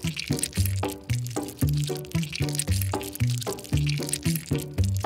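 Liquid chocolate poured by hand into a food fondue setup, rhythmic wet glugging and splashing pulses repeating about every half second, loud and close with no talk.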